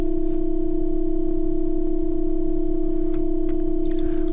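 A Kastle synthesizer on a random patch sounds one steady, unbroken plain tone at moderate level for the whole stretch, with faint hiss and a few soft clicks near the end.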